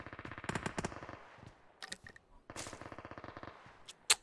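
Gunfire erupts in a PUBG Mobile fight: rapid automatic bursts come in several volleys separated by short pauses, fairly close and sharp, ending with one louder shot.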